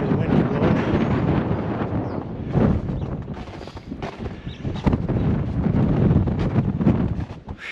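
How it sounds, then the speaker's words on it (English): Strong winter blizzard wind in Fremont, Nebraska roars against the microphone in steady gusts, a loud, rushing buffeting that swells and dips without pause. "Definitely tell you the wind is blowing."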